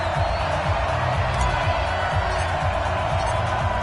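Crowd noise in an NFL football video game on PS4 at Arrowhead before a matchup against the San Francisco 49ers, a steady dense roar of cheering under a commentator's voice.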